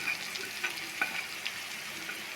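Okra, onion and spice masala frying in a pan with a soft, steady sizzle and crackle, faint scrapes of stirring popping up now and then.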